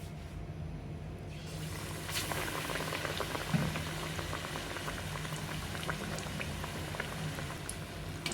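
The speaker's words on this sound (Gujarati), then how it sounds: "તેલ આપણું ગરમ થઈ ગયું છે હવે આપણે બ્રેડ નાખી દઈશું" Stuffed bread pakoda pieces fry in hot oil, making a quiet, continuous bubbling and crackling with scattered pops and no voices.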